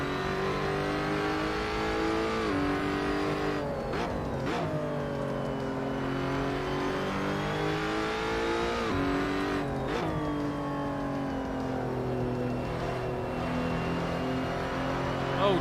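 A mid-engined race car in the Assetto Corsa sim racing game revs loudly and steadily throughout, its engine pitch rising through the gears and dipping sharply at a couple of shifts and braking points.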